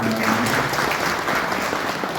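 An audience claps strongly and steadily at a Republic Day celebration dance performance. The dense applause holds at an even level for about two seconds, with a faint voice briefly audible near the start.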